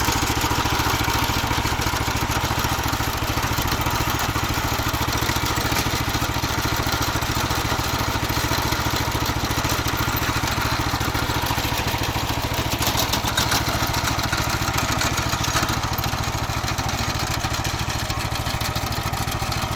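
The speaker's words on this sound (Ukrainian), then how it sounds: "Тракторець їде сам, а ми тільки допомагаємо" A small walk-behind tractor engine, converted into a mini tractor, runs steadily and close by with a constant rattling, chugging drone, unbroken and fairly loud throughout.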